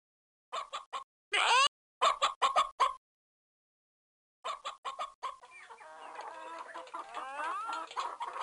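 Chickens in the Little Critter egg scramble video game cluck in quick separate bursts, then a pause, then a longer run of clucking over a steady game background.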